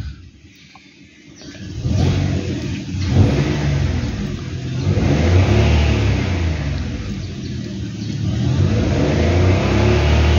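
Suzuki Celerio 1.0 liter car engine revving up repeatedly in loud, sustained surges, rising and falling with no talking.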